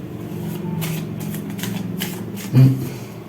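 Oracle cards being shuffled by hand, a rapid papery riffle of flicking cards ending in a soft thump as the deck settles.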